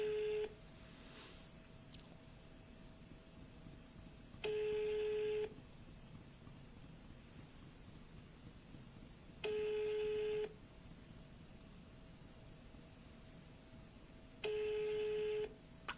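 A tone signal repeats four times at regular intervals, each beep lasting about a second with quiet gaps between, like a telephone ringback heard on a line.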